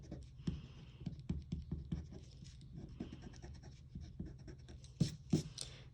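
An eraser rubs across paper to clear excess pencil lines, making soft, quick scratchy strokes in irregular bursts, close and fairly quiet, with a couple of sharper scuffs near the end.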